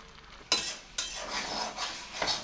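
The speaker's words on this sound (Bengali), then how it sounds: "ভেজে গুঁড়ো করে রাখা মশলা, ভালো করে মিশিয়ে নেব" Spoon scraping and stirring ground roasted spices and sugar into mixed vegetables in a cooking pan over a medium-high flame, a few sharp clinks against the pan followed by soft swishing strokes, close and fairly quiet.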